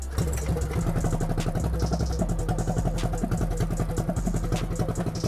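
Small wheelie-machine motorcycle engine running at a steady, rapid, pulsing beat, close and fairly loud, with no talking.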